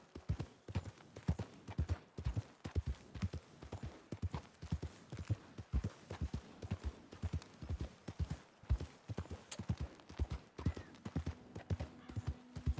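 Horse hooves clip-clopping in a steady trotting rhythm in the Red Dead Redemption 2 video game, fairly quiet and continuous, with no speech over them.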